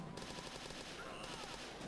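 Scorpion submachine gun firing rapid automatic bursts in Call of Duty MW3, quiet and distant-sounding, with a brief pause midway before firing resumes.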